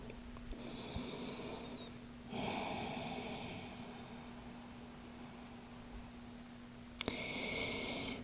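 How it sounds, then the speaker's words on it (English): Slow, deep breathing during a yoga child's pose, soft airy inhales and exhales at close range, two long breaths followed by the start of a third, with a faint steady hum beneath. "Inhales, exhales."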